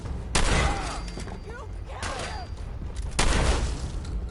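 Loud shotgun blasts from the video game Fallout 4, three sharp booming shots spaced about a second and a half apart, each with a ringing tail, under game chatter and voices.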